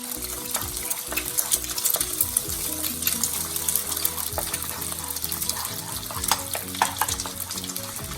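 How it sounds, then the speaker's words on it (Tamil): An egg sizzles and crackles in a hot pan while a utensil scrambles, stirs and scrapes it, steady and close. "இந்த முட்டையை நல்லா அப்படி உடைச்சி விட்டுக்கணும்"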